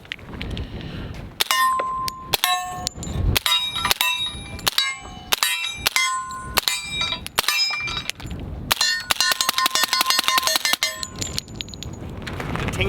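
Suppressed LWRC SMG45 .45 rounds ping off steel targets outdoors: bright metallic clangs in quick irregular bursts, ringing louder than the muffled gunshots, with a rapid string of hits near the end.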